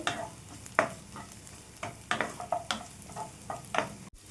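Onions and tamarind fry in a pan for a bitter gourd masala, a soft sizzle broken by repeated scraping stirs of a spoon, close and fairly quiet.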